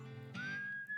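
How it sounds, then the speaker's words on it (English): A character in the video game West of Loathing whistles a sustained, steadily rising tune over soft background game music, clear and close, with no talking. "She's whistling the theme song"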